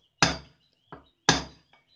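A steel center punch is struck against shiny aluminum to set a small dent for a drill bit: two sharp, close metallic taps, each followed by a lighter secondary knock, on a quiet background.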